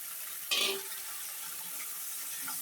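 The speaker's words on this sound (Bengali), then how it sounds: "এখন এটাও ভালোভাবে মশলার সাথে কষিয়ে নেব।" Potato paste being stir-fried into cooked spice masala in a pan: a short scraping burst near the start, then a steady, even sizzle that continues to the end, with no voices.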